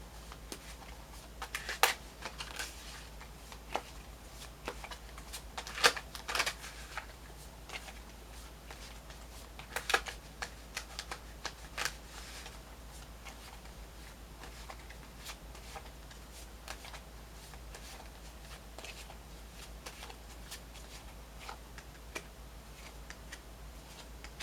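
Tarot cards shuffled by hand in a quiet room, heard as soft intermittent riffling bursts and light taps that cluster near the start and again around the tenth second, with low steady hum beneath.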